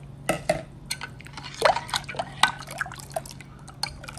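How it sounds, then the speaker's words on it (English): Syrup poured into homemade yellow melon lemonade, with a few close liquid drips and splashes spaced irregularly, some glassy plinks among them, faint and without talk. "if it needs a little more syrup, then I add a little more syrup"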